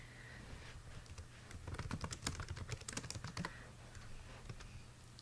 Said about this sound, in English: I had to type something